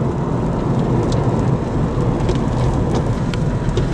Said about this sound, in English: unfortunately, some rain has returned